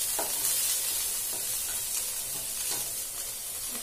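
Peas, corn and carrots sizzle and fry in a hot pan while a spoon stirs them, a steady close hiss with soft scraping strokes repeating every second or so; no voices.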